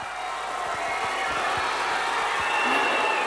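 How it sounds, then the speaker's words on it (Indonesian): An audience applauds the top 10 finalists at a grand final pageant event, a dense, steady wash of clapping that holds at an even level and swells slightly toward the end. "Boleh tepuk tangan sekali lagi untuk 10 besar Raka Jawa Timur"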